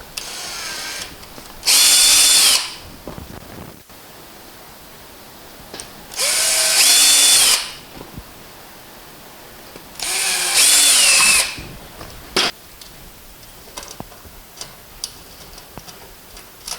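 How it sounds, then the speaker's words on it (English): A power drill bores holes into black plastic at a workbench in three loud bursts of roughly a second and a half each, separated by quieter pauses with faint handling noises, and no one speaks. "what I need to do is just take it to the bench and then drill those holes"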